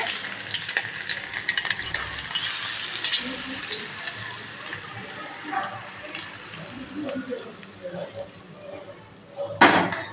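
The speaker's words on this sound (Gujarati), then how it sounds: "આ વઘાર આપણા ઢોકળા ઉપર રેડી દેવાનો છે" Hot ghee tempering with green chillies is poured over vati dal dhokla, a close crackling sizzle that runs steadily under a speaking voice and ends in a sharp loud burst.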